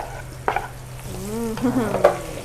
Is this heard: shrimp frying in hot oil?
yes